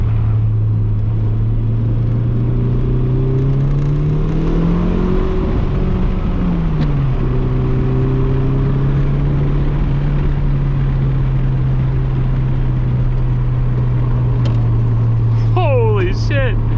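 A cheap Mitsubishi Eclipse on lightweight wheels and R-compound tires pulls hard down a back road, its engine droning steadily close by and rising in pitch as it accelerates, with a brief voice near the end.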